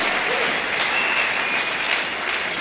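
A church congregation applauding, a dense sustained wash of clapping that stays even and fairly loud throughout, with faint voices mixed in.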